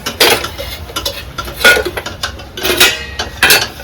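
Metal pots and vessels clank and clatter in several separate bursts, close by, with quiet gaps between the knocks.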